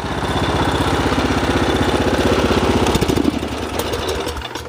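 The rear-mounted engine of a Craftsman R1000 riding lawn mower idles with a loud, steady chugging, then is switched off, its beat slowing and faltering before it dies into quieter sounds.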